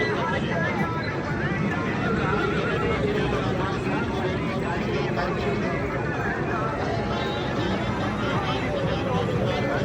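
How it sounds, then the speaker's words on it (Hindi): Horse at a fairground horse competition, with whinnies and hoof sounds continuous over a dense crowd hubbub, while someone talks. "इस टाइम साजन घोड़ा टोर कर रहे जी ग्राउंड में।"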